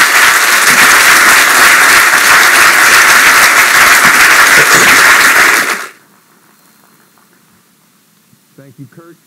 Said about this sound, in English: And I have a big hand of applause, big round of applause.